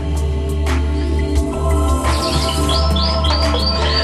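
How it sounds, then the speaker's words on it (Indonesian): Rapid high canary chirps and trills repeat in quick bursts toward the end, over a steady low hum of background noise. "di tangan saya ini saya sedang memegang burung kenari"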